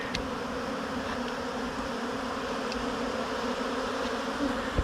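Honeybees buzz around a hive while a cloak board is fitted, a steady close drone broken by a few faint clicks and knocks of handling.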